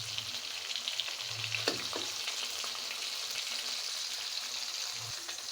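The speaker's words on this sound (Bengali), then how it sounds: "আলু আর মাছগুলো আমি উল্টায় পাল্টায় ভাজা নিলাম" Hilsa fish pieces and potatoes sizzle together in hot oil, a loud continuous crackling fry heard up close with a couple of soft utensil knocks as they are turned.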